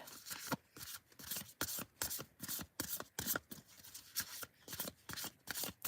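A deck of tarot cards riffled and shuffled repeatedly in quick bursts, crisp papery flutters close by with short pauses between each shuffle.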